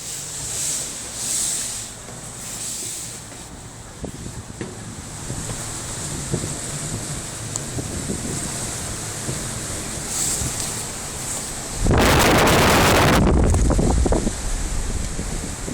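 Strong wind buffets the microphone atop Kingston's City Hall tower, a steady roaring rush with gusting swells and one sharp, loud blast near the end, no voices.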